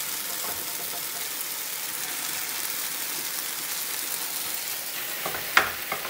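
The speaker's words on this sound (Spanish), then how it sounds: "Y vamos a esparcir bien por el sartén para que toda nuestra carne se vaya cociendo poco a poquito." Ground meat for lasagna fries in a pan over high heat, a constant broad crackling sizzle close by, with a sharp scrape or knock near the end.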